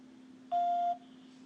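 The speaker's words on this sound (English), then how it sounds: "Please leave a message after the beep." A single short, clean electronic beep, steady in pitch, sounding alone over a faint constant hum.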